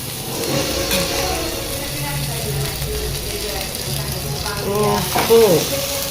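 Food sizzles steadily in a pan greased with homemade butter, a continuous close frying hiss with light scraping and stirring clatter, louder near the end.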